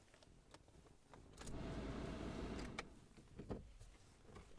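A 2013 Opel Vivaro 2.0 passenger van engine cranks over in a loud, whirring burst lasting about a second and a half, then drops back to a quieter background.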